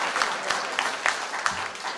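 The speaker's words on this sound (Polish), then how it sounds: "Proszę, brawa śmiało, proszę bardzo." Scattered clapping from a crowd, a steady patter of hands with a few sharper claps standing out, moderately loud.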